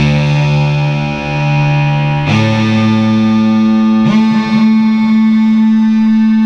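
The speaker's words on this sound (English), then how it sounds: "I can choose a much longer delay, or I can choose a shorter delay." A sustained electronic tone from a Behringer Odyssey synthesizer played through a Marshall amplifier, with two sharp new attacks whose echoes repeat and ring out in a delay tail.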